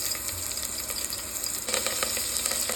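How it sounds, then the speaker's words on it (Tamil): Onions sizzling in hot oil in a pan for a drumstick chicken curry, a steady crackling hiss that grows denser and brighter partway through, close and continuous with no talk. "காய்ஞ்ச பிறகு வெங்காயம் போட்டுக்கலாம்."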